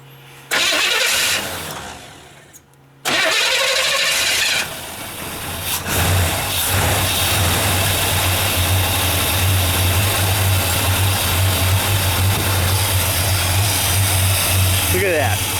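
A 1957 Chevrolet Bel Air convertible engine cranks with a couple of short bursts, then catches and settles into a loud, steady, rumbling idle that runs on smoothly with no knocking.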